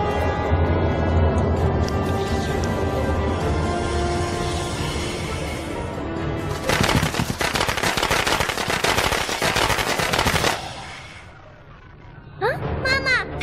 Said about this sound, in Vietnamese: Mọi người mau ra đi, nó sợ pháo.